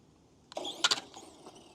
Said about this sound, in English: So sitting still, punch it, good wheelie on 3S.